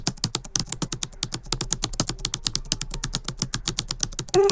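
An email address being tapped out on a mobile phone keyboard, a rapid, even run of close key clicks with no talking.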